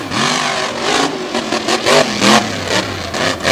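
Monster truck engines roar and rev hard as the trucks launch at Lake Erie Speedway, a loud, continuous, close engine drone with rising and falling pitch.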